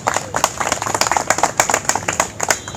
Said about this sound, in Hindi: कर्नल साहब की उस चीज के लिए एक बार ताली पीट दो।